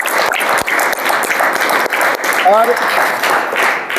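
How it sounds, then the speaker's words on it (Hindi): An auditorium audience at a talk by an Indian IAS officer gives loud, sustained applause, dense clapping filling the whole stretch while a voice briefly speaks over it. "माता जी के लिए जोरदार ताली बजाएं।"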